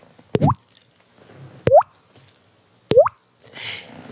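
A person imitates a water drip with their mouth, producing three crisp plopping drips spaced about a second and a half apart, each a sharp pop with a rising liquid tone, followed by a brief breathy noise.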